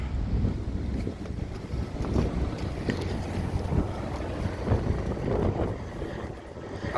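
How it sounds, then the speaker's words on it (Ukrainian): Strong wind buffeting the microphone outdoors, a continuous low roar with gusty swells and no voices. "Бачите, який вітер розпочався."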